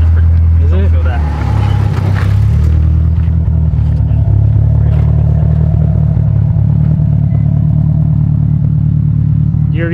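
A 1000 whp Subaru STI engine drones loudly from inside the car, steady and heavy, with people talking over it.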